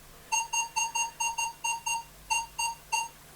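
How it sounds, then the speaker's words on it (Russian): A Minelab X-Terra 705 metal detector sounds its target tone over an old coin: a series of about a dozen clear, high electronic beeps in quick paired groups, with a faint low hum underneath. "Тоже хороший сигнал."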